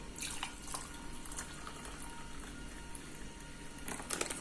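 Hot water is poured for a homemade chili and turmeric cough remedy, a steady trickling splash lasting several seconds, close and moderately loud, with a few brighter spatters near the end.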